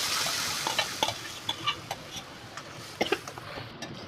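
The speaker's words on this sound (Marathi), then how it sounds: "आता याला तेलामध्ये चांगलं परतून घ्यायचं वाटणाला." Ground masala paste frying in oil while being stirred, a quiet steady sizzle broken by scattered clicks and taps of the spoon against the pan, with no voices.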